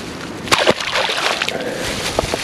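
A bass in cold water, hooked on a jackhammer chatterbait, splashes and sloshes near the surface, with two sharp splashes early on and another near the end among lighter watery sloshing.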